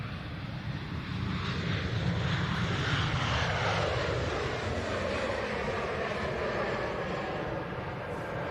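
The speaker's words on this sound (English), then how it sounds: "let's get this gorgeous KLM coming in" A KLM airliner landing at Manchester Airport, its steady jet engine roar approaching and passing at moderate distance with a falling tone, wind buffeting the microphone, no talk.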